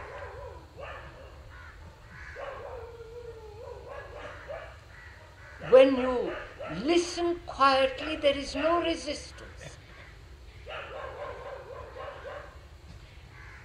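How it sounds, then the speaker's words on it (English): A dog in Madras (Chennai) barks in a flurry of sharp, fairly distant yaps, mixed with crow caws, while someone speaks calmly before and after. "You do not identify yourself with the dog and the barking of it."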